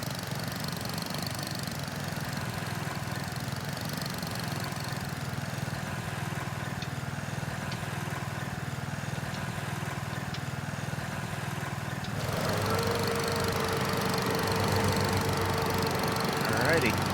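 A mowing machine's engine runs steadily in Farming Simulator 25, a continuous mid-pitched drone holding level for the whole stretch, shifting slightly in tone partway through.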